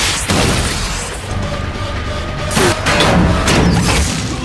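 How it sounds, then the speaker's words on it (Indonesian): An anti-tank rocket launcher fired in a war movie battle scene, with loud booming blasts, crashing impacts and dense rumbling chaos that stays heavy and continuous. "tentara musuh pun mulai meningkatkan serangan dengan memakai peluncur rudal anti-tank, di mana tentara tersebut menembakkannya dari bagian samping"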